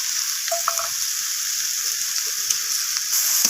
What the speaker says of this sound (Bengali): মটরশুঁটিটাকে দিয়ে আমি আবারও কষিয়ে নিচ্ছি